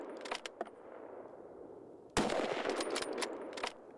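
Rifle shots at a driven wild boar hunt in Hungary, a few sharp cracks at moderate distance followed by a louder close blast near the middle, set against faint outdoor background.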